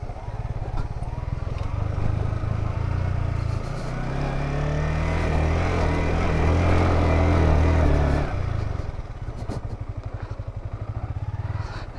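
A motorcycle runs on a steep hill road, its engine ticking close at idle, then revving up into a loud, sustained climb for several seconds before dropping back to a throbbing idle.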